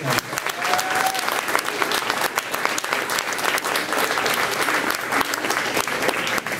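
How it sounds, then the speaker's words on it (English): Banquet crowd applauds youth football coaches at a team awards dinner, a full, steady burst of many hands clapping, fairly loud and close, lasting several seconds with no talk over it. "One more time, a nice round of applause for these guys."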